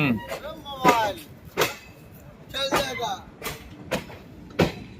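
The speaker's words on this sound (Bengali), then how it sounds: "চলন্ত ট্রেন থেকে ভিডিও করতে গেলে অনেকের মোবাইলই এরকম টেনে নিয়ে যায়" Rhythmic clattering and rumbling of a moving train, recorded from aboard, with repeated sharp knocks and screechy metallic tones close by.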